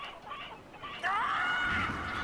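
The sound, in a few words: chickens clucking in video game Billy Hatcher and the Giant Egg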